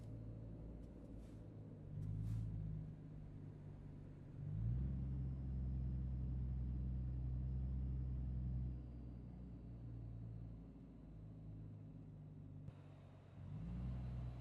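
A big long-haul truck's diesel engine rumbles steadily up close, deep and loud, rising in two surges around the middle and again at the end, with no talk over it.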